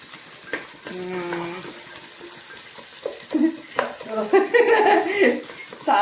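Vegetables sauté in a pan with a steady hiss, stirred now and then with scraping touches, while a voice talks over them in the kitchen.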